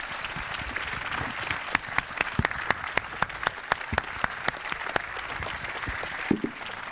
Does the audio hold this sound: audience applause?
yes